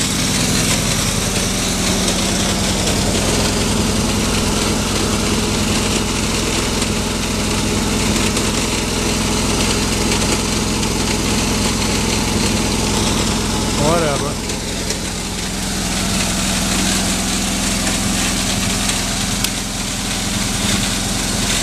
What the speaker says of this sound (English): Got the motorcycle running today.